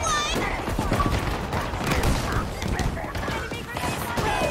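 Gunfire in the video game Halo, a steady wash of shots and combat noise running throughout, with voices talking over it now and then.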